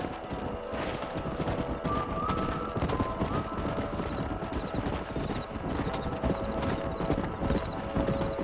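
Steady, rapid hoofbeats clip-clop continuously over a busy, full background of rumble and music-like tones, as horses are driven in Red Dead Redemption.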